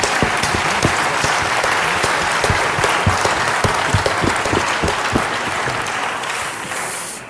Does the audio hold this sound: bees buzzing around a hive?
no